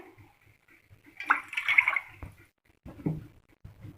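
Two cups of water pour in a short splashing burst into a cooking pot, followed by a few faint clinks and quiet handling sounds.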